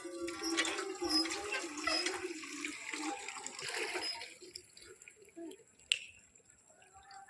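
Water from a tubewell hand pump gushing and splashing in a village, loud and continuous at first, then fading to faint trickles and drips, with a sharp clank near the end.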